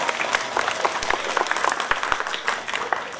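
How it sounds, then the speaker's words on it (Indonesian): Applause from an audience at an Islamic tabligh akbar religious gathering in an Aceh village, a steady crackle of many hands clapping with no talk over it. "Tepuk tangan buat semuanya."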